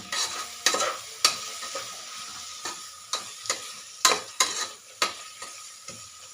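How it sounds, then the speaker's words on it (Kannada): Fresh mint leaves frying in oil in a pan for home-style biryani, a steady low sizzle broken by repeated sharp scrapes and clicks of a spoon stirring, close up with no voices. "ಈಗ ಇದಕ್ಕೆ ಒಂದು ಸ್ವಲ್ಪ ಪುದೀನ ಹಾಕಿಬಿಟ್ಟು ಫ್ರೈ ಮಾಡ್ಕೊತಾ ಇದ್ದೀನಿ"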